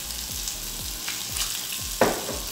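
Crushed garlic cloves frying in a drizzle of olive oil, a bright continuous hiss with a few soft stirring scrapes and one sharper clack near the end.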